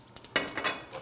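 Mustard seeds crackle and pop in hot oil in a pan, a few sharp close bursts over a steady soft sizzle, with no voices.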